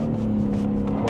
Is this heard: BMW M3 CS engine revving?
yes